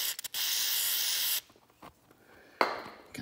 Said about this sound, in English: We're even gonna go ahead and we'll just spray a little bit of this solvent right onto there.